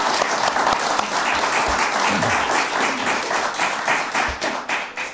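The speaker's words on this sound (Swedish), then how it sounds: "Och det är en applåd." A seated audience at a poetry prize ceremony during the Fröding Days 2021 festival applauds loudly and evenly. The dense clapping is sustained throughout and tapers slightly at the end.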